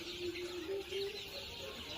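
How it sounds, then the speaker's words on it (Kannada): A flock of 19-day-old chicks at a poultry farm gives off faint, steady clucking and peeping chatter that stays quiet and continuous over a low background hum. "19 ದಿವಸದ ಮರಿ ಆಗ್ಯಾವ"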